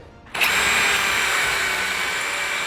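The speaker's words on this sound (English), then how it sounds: "Now we got our 1 inch hole saw where we're drilling the hole for the latch straight in the side of the door." A power drill spins a 1 inch hole saw straight into the side edge of a wooden door to bore the latch hole, a steady loud whirring grind starting abruptly and running continuously to a sudden stop.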